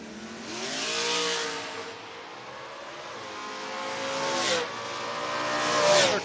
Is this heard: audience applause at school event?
no